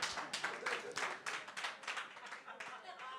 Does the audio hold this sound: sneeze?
no